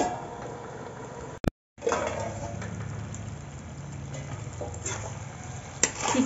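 Chicken pieces being stir-fried in masala in a pot for a chicken curry, with a steady sizzle and scraping of a spoon against the metal. A brief gap interrupts the sound before it continues at a constant level, with no talk.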